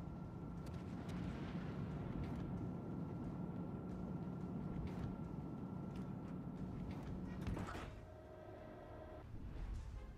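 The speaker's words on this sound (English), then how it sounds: "So he's put an airstrike out on that Rochester." Airstrike aircraft in the naval game World of Warships: Legends, a steady droning engine rumble with a sustained tonal hum that shifts near the end into a lower, warbling tone.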